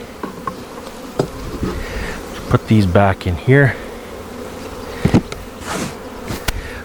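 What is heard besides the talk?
honey bees buzzing around hive frames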